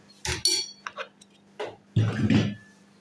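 Dishes and utensils clink and clatter as they are handled in a home kitchen while iftar food is prepared, in a few short bursts with a louder jumble of clattering near the end.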